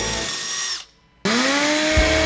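A power drill bores a hole into an exhaust manifold with a steady high whine, briefly stops, then spins up again loud and close.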